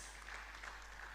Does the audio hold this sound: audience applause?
yes